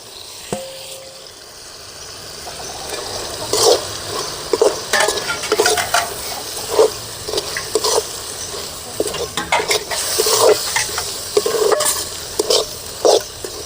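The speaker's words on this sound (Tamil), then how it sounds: "இடித்து வச்ச மசாலா தூளை போட்டுக்கலாம்." Mushroom gravy simmers in a pot while pounded masala powder is stirred in: a close, steady bubbling sizzle under repeated scraping spoon strokes, with no talking.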